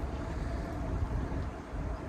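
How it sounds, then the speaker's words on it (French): Autumn wind blowing outdoors at a carp fishing spot gives a steady low rumbling buffet, fairly faint and continuous without any talk. "Le vent, c'est quand même un chouïa."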